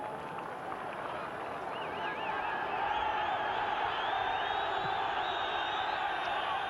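Irish football crowd at a 1969 Northern Ireland versus England match, a steady roar of shouting and whistling at the referee, distant and continuous, swelling slightly midway under a commentator's voice.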